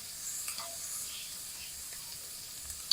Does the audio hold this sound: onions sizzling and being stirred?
yes